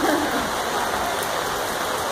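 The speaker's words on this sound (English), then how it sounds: "it's pouring raining" Steady heavy rain hissing and pattering close by, a continuous wash of broadband noise with no clear voices.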